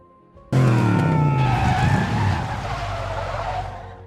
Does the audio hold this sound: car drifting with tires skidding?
yes